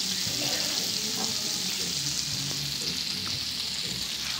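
Seafood sautéing in plenty of butter in a pan gives a steady close sizzle and frying hiss with faint scraping and clinks throughout, no talk.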